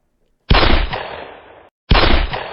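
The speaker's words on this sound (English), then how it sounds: "and then suddenly there's gunfire." Two loud, close gunshots a second or so apart, each a sharp blast followed by a fading rumble.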